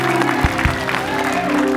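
Studio audience applause on an Indonesian talk show, a steady broad patter of clapping running the whole time with voices talking over it.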